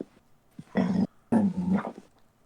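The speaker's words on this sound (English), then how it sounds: "My dog's barking at me." A pet dog gives a few low, gruff barks close by, with two strong bursts about half a second apart. A short growl-like lead-in comes before them, and no speech is heard.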